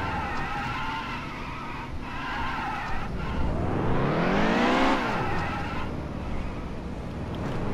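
Race car engine in NASCAR Heat 2 swelling into a loud, rising-then-falling whine as the car scrapes and slides along the wall, with continuous engine drone and tire noise around it.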